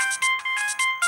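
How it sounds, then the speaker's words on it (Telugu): A phone ringtone for an incoming call chirps in quick electronic bursts, about five short pulses in a bouncing rhythm, loud and close with nothing else around it. "బీటీ ఈ టైంలో ఫోన్ చేస్తుంది."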